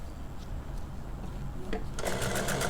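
A sewing machine stitches a zip onto the back of a baby frock, starting as a faint whir and breaking into a loud, steady rapid stitching rhythm close by for the last second or so.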